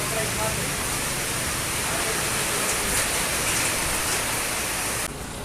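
Heavy rain falls hard and steadily in a thick, unbroken hiss, close and loud. Nothing else comes through the downpour until it stops abruptly near the end.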